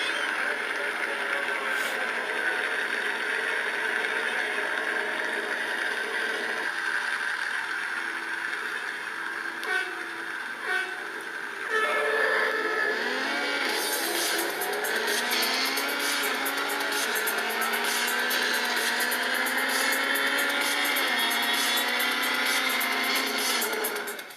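Racing car engines from the iPad game Real Racing HD play through the tablet's speakers, a steady engine drone that climbs into rising revs and pitch sweeps midway, with no pauses throughout.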